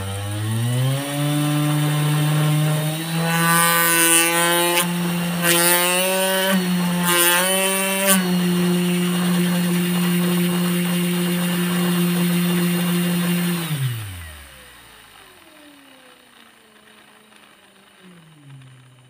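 A homemade mini grinder powered by a brushless DC motor runs at a loud, steady high-pitched whine, its pitch wavering briefly as it is revved, then spinning down and stopping near the end.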